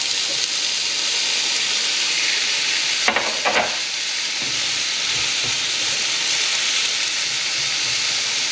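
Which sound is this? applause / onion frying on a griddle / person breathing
onion frying on a griddle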